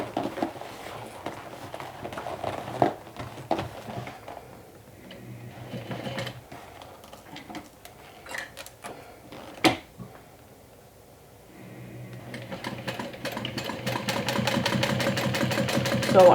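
A sewing machine top stitches a swim tote with a quarter-inch seam allowance, running in bursts of rapid mechanical stitching broken by pauses and light handling clicks, then a longer steady run at the end.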